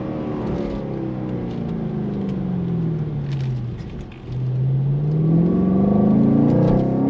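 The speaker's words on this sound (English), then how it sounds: "That LS3 naturally aspirated power sounds so sweet." A 2017 Chevrolet SS sedan with a naturally aspirated LS3 V8 accelerating hard, its engine note climbing steadily, dropping briefly at a shift, then rising again, loud and close throughout with no talking.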